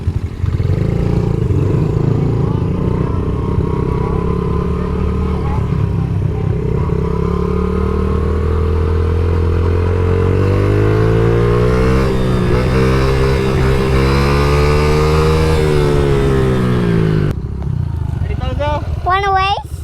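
Children's dirt bike engines drone continuously nearby, their pitch climbing and falling as the bikes ride and accelerate, with a voice talking over the engine noise toward the end.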